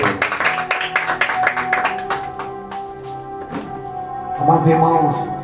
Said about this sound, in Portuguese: bater uma salva de palmas para o Senhor e Salvador Jesus Cristo.